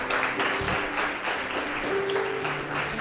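A church congregation claps for the Lord, a steady wash of applause from many hands that continues evenly throughout, fairly loud and close with no clear speech over it.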